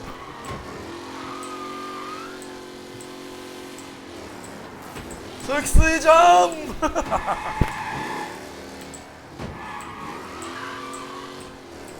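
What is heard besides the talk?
vintage Bugatti-like race car driving in Mafia Definitive Edition video game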